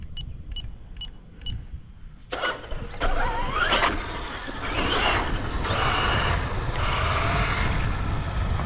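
A Redcat Vigilante RC car pulls away under throttle after a few short electronic beeps, its electric motor whining up into a loud, rising, close whir that carries on with varying pitch.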